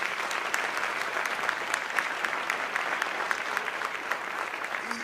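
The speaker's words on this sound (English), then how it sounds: "join me by giving all of them one more round of applause" Audience at a PTA Founders Day awards evening giving the recipients a sustained round of applause, many hands clapping in a dense, even patter for several seconds.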